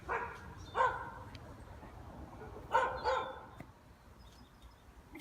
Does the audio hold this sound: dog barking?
yes